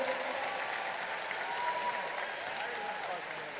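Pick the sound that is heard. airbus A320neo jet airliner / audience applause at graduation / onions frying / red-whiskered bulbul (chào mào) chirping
audience applause at graduation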